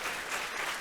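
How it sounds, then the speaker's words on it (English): A conference audience applauding the panelists at an author event, dense steady clapping from many hands throughout the brief moment. "Just a round of applause for our panelists."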